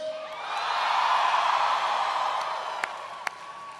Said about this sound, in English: Can everybody please give a big round of applause to Dominique?